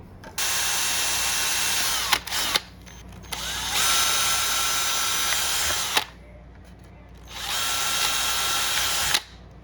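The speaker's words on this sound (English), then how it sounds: "put it on the car, make sure it passes the test, and then drill it" A power drill drilling a plastic RC car body for a WLtoys 144001 whirs in three sustained bursts with short pauses between, close and loud, with faint clicks at the stops.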